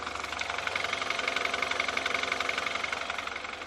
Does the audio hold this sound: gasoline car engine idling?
yes